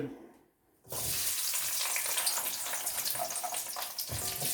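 Chips going into hot oil for a jaeger schnitzel meal: after a short quiet moment, a loud, steady frying sizzle starts and holds close and continuous, dipping briefly near the end.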